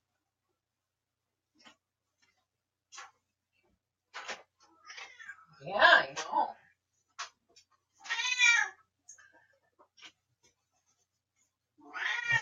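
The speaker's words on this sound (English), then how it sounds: "I'm going to let my cat in so he stops crying." A pet cat cries to be let in from outdoors, its meows coming in separate bursts with a few quiet clicks and shuffles between them, and someone briefly speaks.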